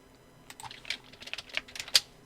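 Keyboard keys tapped as shortcuts while working in illustration software, a quick uneven run of light clicks that ends on one sharper, louder keystroke, close and clear with no talking.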